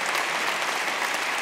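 Warm burst of audience applause following a song at the Juno Songwriter's Circle, even and continuous clapping from a crowd, heard alone.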